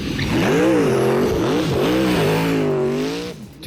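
A video-game drag race car engine revving hard, with rising and falling pitch swells over several seconds, loud and close, fading at the end.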